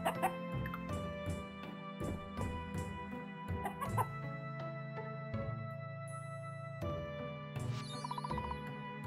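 A cartoonish chicken in the video game Fields of Mistria clucks in a quick, bouncy series of short calls, clear and close over light game music and chimes, with no talking.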